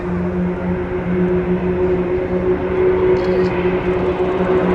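Aircraft of The Blades aerobatic team drone over an airfield at the Farnborough International Airshow, a steady, moderately loud engine hum heard from a distance throughout.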